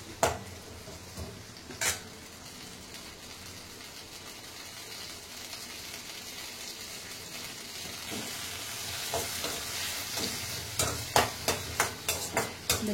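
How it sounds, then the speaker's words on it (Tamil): Mint and coriander leaves are sautéed on a medium flame for a mint-coriander chutney, making a soft continuous sizzle, with a run of quick, sharp utensil stirs and clinks toward the end. "மீடியம் ஃப்ளேமில் வச்சு அதை நல்லா வதக்கிடணும்."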